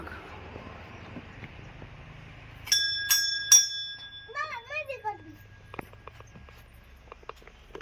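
A temple bell rings three times in quick succession, bright and ringing, followed by a chirpy sound and faint footsteps in a quiet space.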